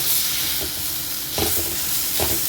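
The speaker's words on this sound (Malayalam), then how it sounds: "ഇനി നമുക്ക് ഈ തോരനൊന്ന് നന്നായിട്ട് മിക്സ് ചെയ്ത് ഇറക്കി വയ്ക്കാം." A spatula stirs Kerala-style thoran, a vegetable stir-fry with ground coconut paste, in a pan at home, giving a steady close sizzle with a few louder scraping bursts near the middle and end, no voices.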